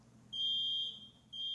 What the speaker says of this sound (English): Upon hearing an alarm Stage 2 signal